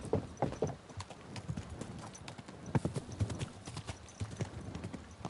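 Continuous clip-clop of a horse's hooves at a trot, fairly close and steady, in the medieval game Kingdom Come Deliverance 2, with a faint snort or whinny at moments.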